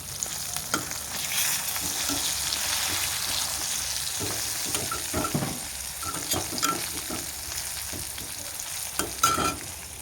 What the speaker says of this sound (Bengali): মোটামুটি মাছগুলো ভাজা হয়ে গেছে